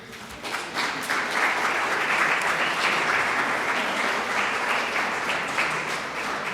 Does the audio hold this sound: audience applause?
yes